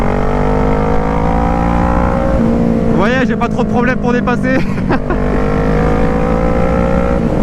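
A 2012 Kawasaki ER6N V-twin motorcycle, restricted to 47.5 hp for an A2 licence, drones steadily under someone talking, then revs climb sharply through several quick rising pulls before settling back to a cruising hum.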